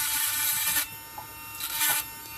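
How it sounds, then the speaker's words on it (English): A Dremel rotary tool grinds a rounded bevel into the edge of a lampwork glass bead, a high whining buzz that drops out and resumes in short bursts, close and loud. "you just angle your Dremel bit along the edge at an angle, and what you're doing is you're just kind of grinding a little bevel, a rounded bevel into that bead"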